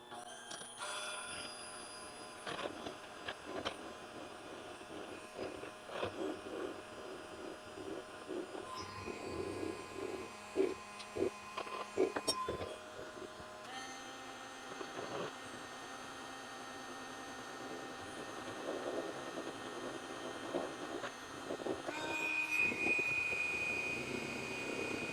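An electric mixer whipping meringue for an old-fashioned chocolate banana pudding, a steady motor whir running at an even pitch with clicks and small bumps of the beaters against the bowl, rising slightly in intensity near the end.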